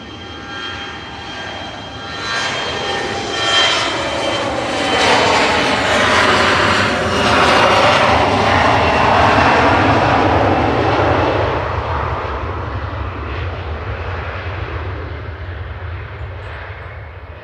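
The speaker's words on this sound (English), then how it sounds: "Mitsubishi CRJ 900 there, heading back to Copenhagen" A Mitsubishi CRJ900 jet departs Manchester Airport for Copenhagen. The engine roar swells to a loud, sweeping peak as it passes close by, then slowly fades into a lower rumble as it climbs away, with no voices.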